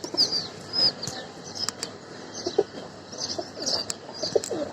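Pigeons coo softly in a loft, low murmuring calls scattered through the moment amid light chirps and faint background noise.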